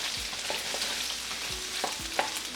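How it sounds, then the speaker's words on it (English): Sliced onions fry in a pan for a Hyderabadi aloo kheema korma, crackling and sizzling up close while a utensil stirs and scrapes several times in quick, uneven strokes. "Now I'll add in my sliced onions, and I'll fry these onions till they are transparent in color."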